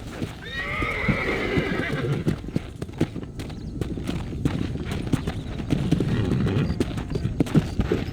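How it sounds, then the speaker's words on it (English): Horse hooves clip-clop at a fast, steady gallop in Red Dead Redemption, from start to finish, with a short whinny near the beginning. "My horse can't keep up."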